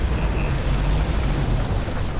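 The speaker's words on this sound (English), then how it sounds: "The fuses just blew." Electrical fuses blowing inside a futuristic detective game's apartment setting, a deep rumbling boom with a low burst sustained at steady loudness for about two seconds, no voices over it.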